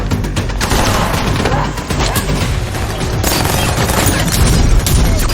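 Gunfire in a film shootout between hired killers and their target: dense, continuous bursts of shots and impacts fill the whole stretch loudly, with no pauses.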